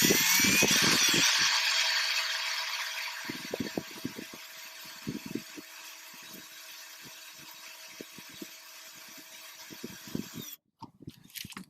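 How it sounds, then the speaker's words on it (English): A high-pitched drill with a 1/8-inch bit whines loudly at first, then settles into a steady hum broken by scattered clicks and knocks as it bites into a metal rivet. "With our 1/8 drill bit, we're going to start a nice hole in the center of the rivet."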